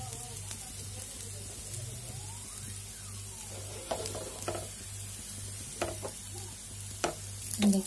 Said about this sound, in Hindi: थोड़ा थोड़ा तेल डाल के इसको फिर पका देंगे दूसरे साइड भी